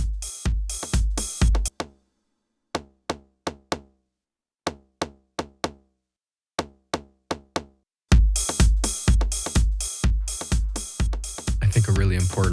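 A house beat in Detroit deep house style plays a punchy tom drum with its low end cut away, hitting in quick rhythmic bursts with sparse gaps before the full groove returns steadily and loud.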